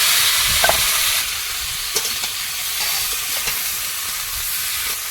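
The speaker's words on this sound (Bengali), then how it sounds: "কড়াইতে আবার একটু তেল দিলাম আর এখানে ফুলকপিটা ভাজবো" Cauliflower sizzles and crackles in hot oil in a wok, a loud continuous frying hiss with occasional scrapes and pops.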